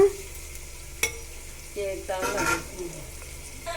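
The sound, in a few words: roasting semiya (vermicelli) in a pan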